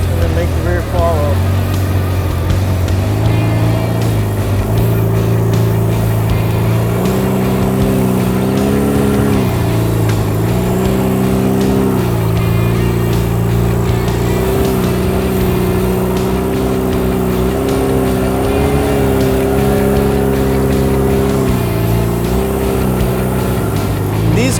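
Rear-engined moon buggy off-road vehicle driving, its engine holding a steady loud drone with repeated rises and dips in revs, up close and continuous, with speech mixed in.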